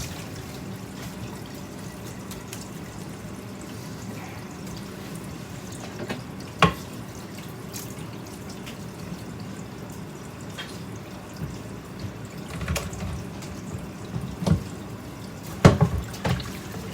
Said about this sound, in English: I'm going to wash my cutting board.